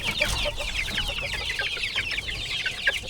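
A flock of seven-week-old chickens clucks and chirps continuously nearby, busy overlapping calls with some shuffling underneath.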